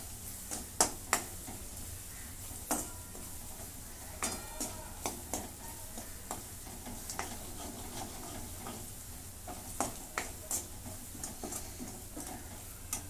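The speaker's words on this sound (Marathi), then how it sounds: "त्याच्यात थोडीशी हिंग टाकून घेते आणि हे पण आता परतून घेते." Onions sautéing with asafoetida in a pan give off a soft, steady sizzle, broken by occasional clicks and taps of a spatula against the cookware.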